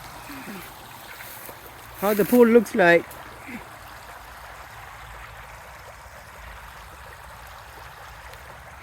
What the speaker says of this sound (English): But we are letting the water out.